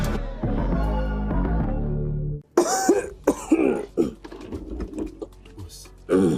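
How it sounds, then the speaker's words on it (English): A sustained droning tone gives way to a string of harsh, close coughs and throat clearing from a persistent, weeks-long cough, repeated in irregular bursts for several seconds. "I've had this cough for more than 2 weeks."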